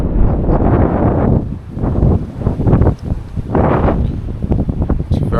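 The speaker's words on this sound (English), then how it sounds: "It's a bit windy today too." Strong outdoor wind buffets a microphone in cold weather near water, a steady loud rumble with gusts that swell and ease, with no voices.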